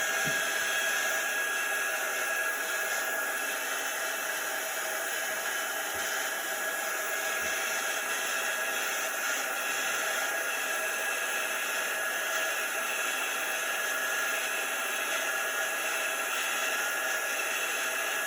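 A heat tool runs in a steady, continuous blowing whir while warming chalk paste on a wreath tile. It holds at a constant moderate level throughout, with no talk.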